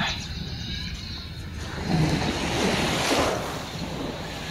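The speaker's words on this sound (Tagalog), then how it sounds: "This is the beach." Ocean waves wash onto the beach at Port Barton, Palawan, a steady roar that swells twice as surf breaks nearby, mixed with wind noise.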